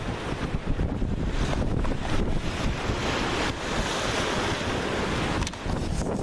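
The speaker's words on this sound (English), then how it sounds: "It just splashed up over the wall" Ocean surf hits a harbour sea wall by a lighthouse in a continuous loud roar, heavy wind buffeting the microphone and a few surges of splash. No one speaks.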